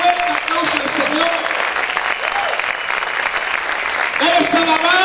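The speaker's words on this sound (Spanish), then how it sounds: "Dale esa fuerte aplauso al Señor." A church congregation applauds loudly and steadily during a worship service, a dense, continuous wash of many hands clapping with voices mixed in throughout.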